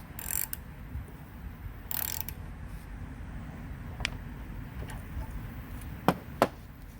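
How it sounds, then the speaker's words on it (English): A ratchet tightening the carburetor float bowl nut on a Briggs & Stratton lawn mower engine gives a few short, faint clicks spread across a quiet room-tone background, with the sharpest pair near the end. "Finish tightening it off with your ratchet."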